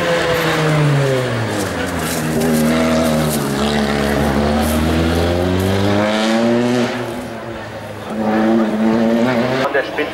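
A BMW M3 touring car races past on a circuit, its loud engine note rising and falling through gear changes, with a commentator talking over it in German.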